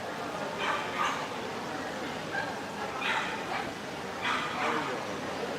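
Several small dogs, apparently Chihuahuas, give short yipping barks in a few separate bursts, fairly faint and at a middle distance, over a steady background hiss.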